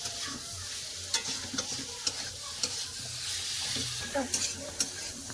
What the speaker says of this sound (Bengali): এবার আলু কফি মশলার সাথে খুব ভালো করে কষে নেবো